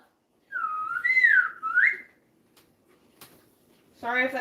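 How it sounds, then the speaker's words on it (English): A person whistles a short, sliding melodic phrase, loud and close, followed by a pause and then a brief burst of voice. "Sorry if that whistle's too loud, you guys."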